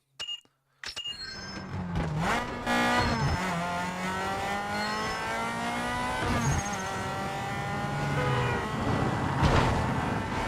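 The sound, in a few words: video game toy-like car engine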